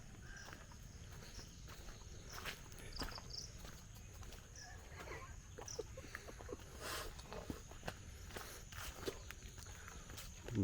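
Footsteps crunch along a rain-soaked village footpath near the Ichamati river, a steady faint walking rhythm over low ambient noise with occasional insect chirps in the background.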